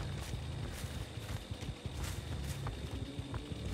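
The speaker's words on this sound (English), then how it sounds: "Do I hear footsteps?" Footsteps in the video game Dead by Daylight thud in an uneven run of soft steps over a steady, moderately loud background ambience, with no speech.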